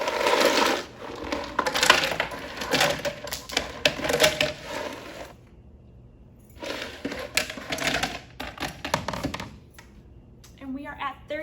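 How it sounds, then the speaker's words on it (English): Ice is dropped into a blender jar for a Frappuccino, giving clattering, crunching rattles in dense bursts with a quiet pause partway through before more ice tumbles in. "I'm going to add ice until it reaches 32 ounces."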